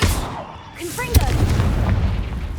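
A Confringo fire blast spell in the game Hogwarts Legacy, a sharp booming burst at close range followed by a rumbling tail, with a voice calling out over it.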